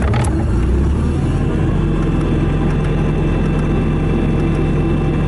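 A 2017 Bobcat T650 rubber-track skid steer loader with cab heat and air starts up, a brief crank giving way to a loud, steady close-range diesel idle with a low rumble.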